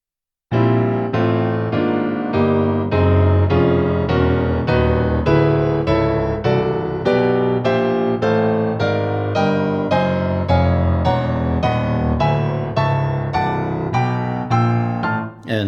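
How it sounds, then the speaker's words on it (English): Piano playing a circle-of-fifths chord progression, the left hand looping while the right climbs, with a steady succession of evenly spaced struck chords ringing close and clear without any talk. "It's basically playing a succession of chords that sounds like this."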